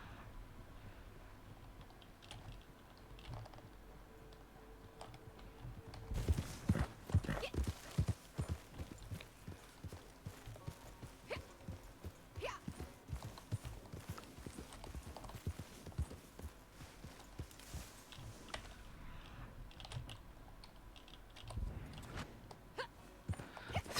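Horse hooves clip-clop steadily in Red Dead Redemption 2 as a rider travels by horseback, the even trot running under occasional talk and game sounds.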